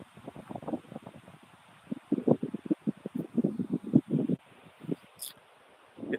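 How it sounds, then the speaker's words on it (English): Gusty wind buffets the microphone outdoors on a slag heap, coming in irregular low rumbling bursts that rise and fall, loudest in the middle stretch, with faint background noise between gusts. "It's very windy."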